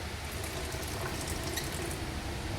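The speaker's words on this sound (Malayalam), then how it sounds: "നമ്മൾ കുറച്ചുകൂടെ വെള്ളം ഒഴിക്കണം" Water pours steadily into a cooking pot for pumpkin erissery, giving a close, continuous rushing wash with no voices.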